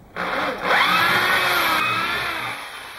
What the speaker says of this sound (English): we're going to drill two holes, making sure we don't run into the other screws that we put in the corner